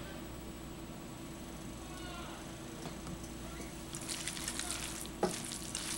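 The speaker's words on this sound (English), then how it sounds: "Mix it up really well." Broccoli rice au gratin mixture being stirred in a pan, a soft continuous wet scraping and sizzling texture that grows busier toward the end, with one sharp clink near the close.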